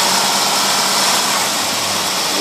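Engine fitted with dual AFB carburetors in a 2x4 setup running, a loud steady close roar with a faint low tone shifting near the end, no talk.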